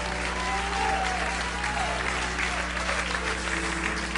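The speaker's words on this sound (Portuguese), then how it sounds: "Isso merece uma salva de palmas maior, merece um grito muito maior." A church congregation applauds and cheers with loud, continuous clapping and raised voices, over a sustained organ or keyboard drone, during a 2004 service.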